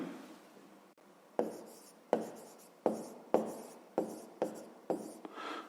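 Pen or chalk writing out a maths solution by hand, a series of sharp scratchy strokes in a regular rhythm, each starting with a tap and trailing off, close and alone.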